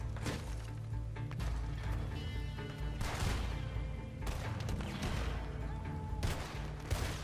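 Gunfire in the online Western shooter Red Dead Online: several sharp, cracking shots in quick bursts over a steady bed of game sound.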